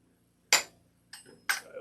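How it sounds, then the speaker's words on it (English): Glassware clinks while a drink is poured into a chilled glass, giving one sharp clink, then a brief pour-like rush and a second bright clink, close and distinct, with no voices. "I've been chilling my glass, so what I'm going to do is take this business, pour that in"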